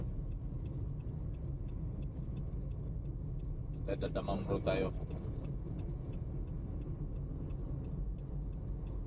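Low, constant traffic rumble on a Dammam road at night, heard from a motorcycle among cars and trucks, with a brief louder passing swell midway and someone talking over the engine drone.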